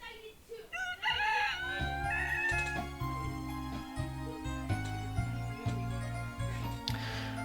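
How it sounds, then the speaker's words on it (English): A rooster crows in a garden over a bed of sustained musical tones, the call rising near the start while music continues underneath. "I awoke as usual to the happy sound of a rooster crowing in the garden"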